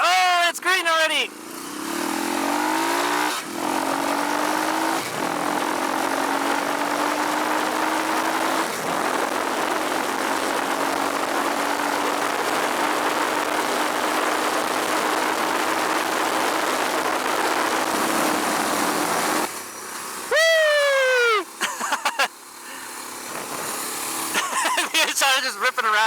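Suzuki DR650 motorcycle ripping around a road course, its single-cylinder engine droning loud and steady from onboard, with sharp revving shifts near the start and end.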